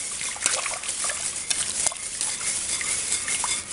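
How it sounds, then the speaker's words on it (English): A whitewash slurry being stirred into hot liquid in a crockpot for pot roast gravy, with a steady close sloshing, liquid swirling and light scraping against the pot. "take our whitewash, add it to our hot liquid, stir up real good."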